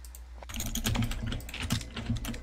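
Typing on a computer keyboard: after a quiet half-second, a close, brisk run of key clicks and clacks continues steadily to the end, with no talk.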